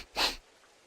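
One short, sharp sniff or snort from a video game cutscene, a brief breathy burst that fades quickly into quiet.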